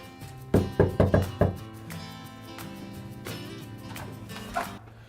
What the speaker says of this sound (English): I'm gonna knock on the door